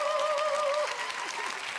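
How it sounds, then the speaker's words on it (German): Studio audience at the Dancing Stars show applauding, a dense, even wash of clapping that carries on under a sustained musical tone. "Für dich heute Abend da, um laut zu applaudieren und vor allem zu schreien"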